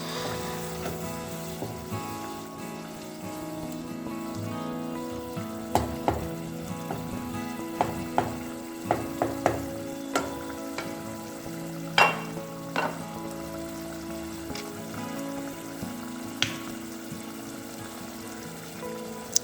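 Cowpeas cooking in a pan, a low steady simmering sizzle with scattered sharp clinks and taps from utensils, moderately close and without any voices.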